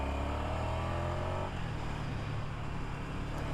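Ducati Desert Sled motorcycle engine and exhaust, loud and continuous, holding a steady throaty drone that eases and shifts pitch partway through, heard up close while riding.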